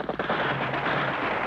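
A single gunshot from a sniper in old wartime street-fighting footage, a sharp crack followed by a sustained rumbling boom, loud and close with a dull, muffled archival quality.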